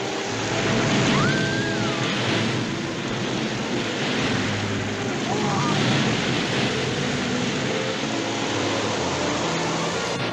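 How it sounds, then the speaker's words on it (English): Ocean waves and wind roar as a constant, loud wash of surf throughout, with faint tonal sounds briefly rising above it. "The waves are reaching us."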